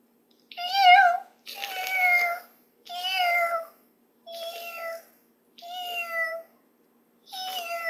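A human voice imitates a caracal's meow purr, six separate chirpy, warbling meows with short pauses between, close and clear against silence.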